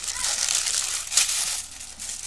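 Wrapping paper is crumpled and crinkled by hand during unboxing, a continuous dry rustling that is close and fairly loud with a brief sharper crunch in the middle.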